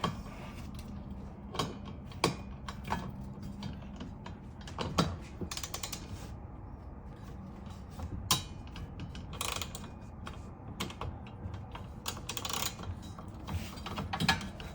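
A hand wrench tightening bolts on a Radd Raxx roof rack system, giving quiet, irregular ratcheting clicks and ticks close by, with no voices.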